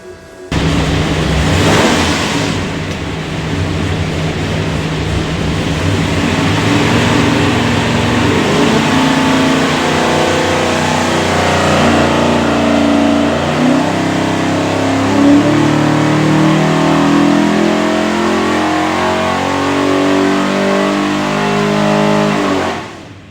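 A naturally aspirated 572ci all-aluminum big block Hemi, built for a '68 Charger, roars on an engine dyno in one loud, sustained run, its pitch climbing steadily for over twenty seconds before cutting off.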